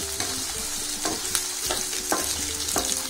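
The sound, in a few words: potatoes being fried and stirred for pulao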